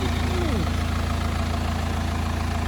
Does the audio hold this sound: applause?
no